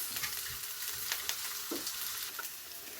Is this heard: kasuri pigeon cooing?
no